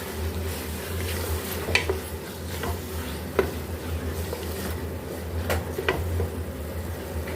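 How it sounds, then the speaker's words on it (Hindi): Chicken keema frying in a pan while being stirred and mixed with spices, a steady low sizzle under scattered scraping clicks of the spoon, close and moderately quiet, with no talking. "अब इसमें हम कीमा डाल देंगे चिकन का और इसको हम अच्छे से मिक्स कर लेते हैं।"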